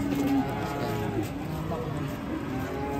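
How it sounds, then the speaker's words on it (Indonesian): A large European-class cow at a cattle market gives a drawn-out, fairly close moo that fills the short stretch, with faint background murmur and livestock noise around it. "Sapi kayak kelas Eropa ini guys. Besar sekali ini."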